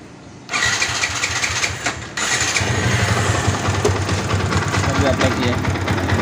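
A Yamaha Vixion motorcycle that stalls when put into gear starts up after a quiet moment, cranks and catches, then settles into a loud, steady idle close by.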